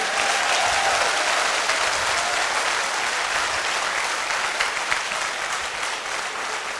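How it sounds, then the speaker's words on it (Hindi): A seated audience at a motivational leadership talk claps in a sustained, even burst, a thick continuous patter of many hands filling the room with no speech over it. "तालियां बजानी है तो तसल्ली से बजा दो,"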